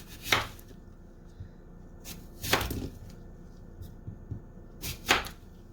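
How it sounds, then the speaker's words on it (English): A kitchen knife cuts through apples on a cutting board, making three crisp chopping strikes spaced a couple of seconds apart, close and moderately loud, with quiet background in between. "Now I'm going to cut my apples."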